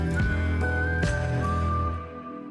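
A clear whistled melody over a sustained musical backing, bright and steady, fading out toward the end, from a song.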